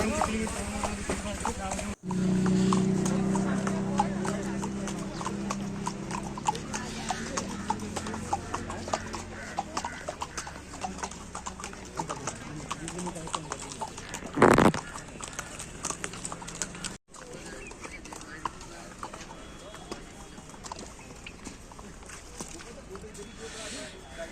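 Steady clip-clop of horse hooves plods on throughout during a ride in Solang Valley, under a constant outdoor rumble, with people talking intermittently.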